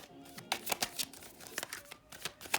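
A deck of tarot cards being shuffled by hand in a quiet room, giving a run of crisp riffling and snapping bursts spaced unevenly over a couple of seconds, close and fairly soft, with no talking.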